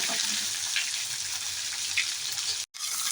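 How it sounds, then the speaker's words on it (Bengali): Pieces of pointed gourd (potol) fry in oil in a pan with a steady, close, hissing sizzle that runs without pause, apart from one brief dropout near the end. No one speaks. "পটলটা মিনিট দুইভাবে খুব সুন্দরভাবে ভাজা হয়ে গেছে"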